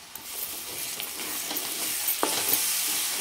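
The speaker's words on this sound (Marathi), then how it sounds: "चांगलं तेल एकदम सेपरेट होईपर्यंत आपल्याला ह्याला परतून घ्यायचं नेहमीप्रमाणे" Onion and coconut paste sautéing in hot oil, a steady close sizzle with scraping stirs of a spoon in the pan throughout, no voices.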